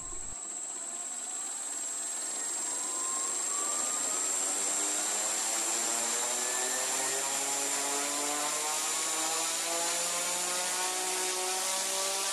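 A VQ Models Turbo Porter model aircraft's engine drives a variable pitch propeller during a governor check, producing a close, steady high whine with rising and shifting harmonic tones that climb throughout.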